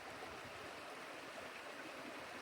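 Faint, steady rush of Thunder Creek flowing beneath a bridge along a trail, an even broadband wash of moving water with no voices.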